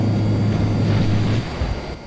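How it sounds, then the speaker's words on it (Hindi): An electric car drives along a road toward a military base in GTA 5, giving a steady, airy, spaceship-like hum with a low droning tone that shifts slightly near the end, continuous and with no talking. "बट ये मेरी इलेक्ट्रिक कार की आवाज़ है।"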